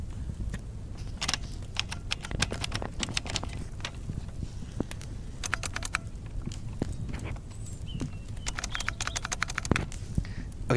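Computer keyboard typing played as a game sound effect gives rapid, uneven clicking and tapping that runs continuously at moderate volume over a low background rumble.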